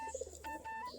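Local Giribaz pigeons feeding on paddy grain in the morning give soft, low cooing that runs steadily through a second of quiet background hum, with faint tonal chirps above.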